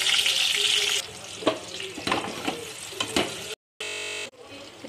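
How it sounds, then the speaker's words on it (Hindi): Raw mango pieces fry in a pan over a medium flame while being stirred, giving a steady close sizzle with scraping stirs; there is a brief dropout and a short burst of altered noise near the end. "आम फ्राई होने लग गया है, इसको इस तरीके से चलाते रहिए"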